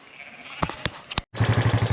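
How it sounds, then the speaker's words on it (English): Sheep crowded into farm yards while being drafted, bleating in a loud, close, rapidly repeating chorus, with a few sharp knocks and a brief gap before the pulsing bleats resume. "Oh, that's a lot of sheep in here."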